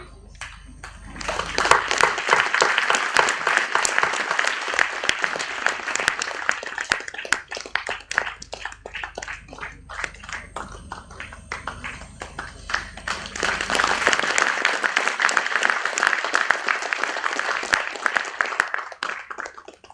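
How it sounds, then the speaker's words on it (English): An audience applauds at a CSIR-NIIST laboratory program inauguration, with two sustained bursts of dense clapping separated by a quieter stretch, loud and close in a hall. "a big round of applause for the team who have developed these technologies"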